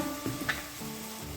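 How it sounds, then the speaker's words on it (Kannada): Tomato with spices fries in a pan with a faint, low sizzle and soft crackle, set against a steady background hum. "ಟೊಮೆಟೊ ಚೆನ್ನಾಗಿ ಫ್ರೈ ಆಗಿದೆ"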